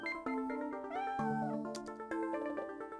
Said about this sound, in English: Hi there, cat.